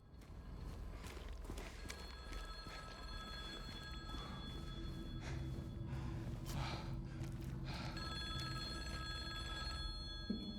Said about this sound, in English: a payphone is ominously ringing